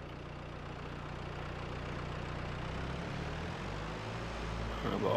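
A tractor engine runs steadily in the video game Farming Simulator 22, a low continuous idling drone with a slight rise in level near the end, heard alone without talk.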